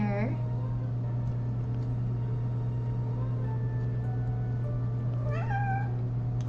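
A cat in a Nancy Drew mystery game meows twice, a short cry at the start and a clearer rising meow near the end, over a steady low hum with a player talking.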